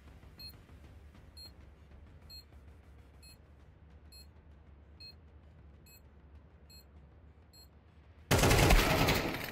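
Gunfire in a Counter-Strike match, a faint regular series of sharp shots or clicks ticking at steady intervals under quiet background, ending in a sudden loud burst of noise.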